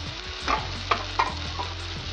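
Spoon or spatula stirs and sautés in a hot pan for Kerala-style karimeen (pearl spot fish) curry, a few quick metallic scrapes and clinks over a soft, continuous sizzle, no talking.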